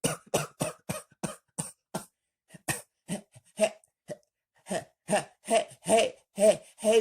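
Repeated coughing in short harsh bursts, a fast run of coughs, a brief pause, then more coughs growing louder and close.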